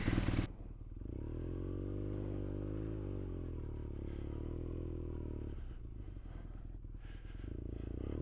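A BMW R nineT motorcycle engine roars close and steady as the bike rides off, a sustained throaty drone holding nearly constant with slight swells in pitch, and no talk over it.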